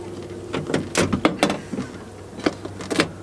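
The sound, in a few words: old car door panel being clipped back on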